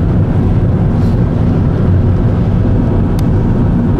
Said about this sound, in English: it's hardly surprising that the wind is funneling through